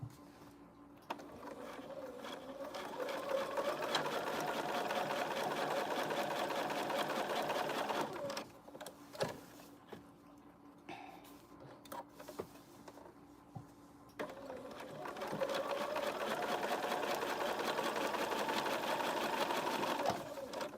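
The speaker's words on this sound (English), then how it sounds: "We're going to sew down one side a top stitch and then down the other side." A domestic sewing machine top-stitches down the sides of a folded fabric loop tag in two steady runs of whirring stitching, with a short pause of quieter handling in between.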